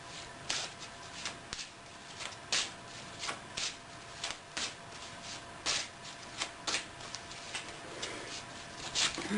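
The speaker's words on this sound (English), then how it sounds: "Let's just keep shuffling." Doreen Virtue Life Purpose oracle cards are shuffled by hand in a steady run of soft papery riffles and taps, close and fairly quiet, with no voices.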